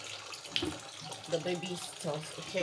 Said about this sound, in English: we have to top it up with cold water